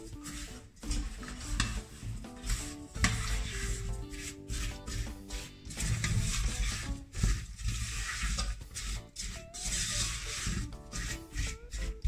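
A spoon stirring strawberries and sugar in a pot, giving steady scraping and clinking against the metal that runs without a break, over a constant tonal background.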